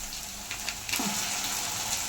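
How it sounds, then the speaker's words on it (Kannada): Onion, ginger and garlic paste frying in a pan for pepper chicken sukka, a steady close hiss of sizzling with a few brief crackles and one louder burst partway through. "ಈರುಳ್ಳಿ ಶುಂಠಿ ಬೆಳ್ಳುಳ್ಳಿ ಪೇಸ್ಟ್ನ ಸ್ವಲ್ಪ ಬ್ರೌನ್ ಕಲರ್ ಬರಬೇಕು ಅಲ್ಲಿವರೆಗೂ ಸ್ವಲ್ಪ ಫ್ರೈ ಮಾಡ್ಕೊಳ್ಳೋಣ"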